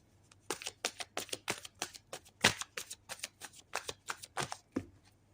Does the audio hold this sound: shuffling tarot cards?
yes